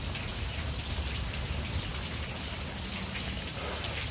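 Steady rain falls outside a mother's house, a dense, even hiss of drops on surfaces that stays constant throughout with no talking.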